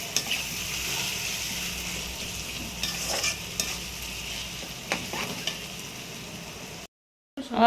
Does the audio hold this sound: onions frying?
yes